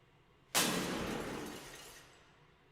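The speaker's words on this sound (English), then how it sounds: "we've got this neat sound effect here that's a bunch of glass shattering" Glass panes shatter against a rock in a sudden loud crash, recorded for real as a sound effect. Bright scattering shards ring on and slowly fade over about two seconds, with no voices.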